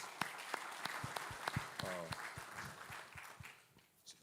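A church audience claps steadily with distinct sharp hand claps, moderately distant, while a voice speaks briefly over it before the applause fades.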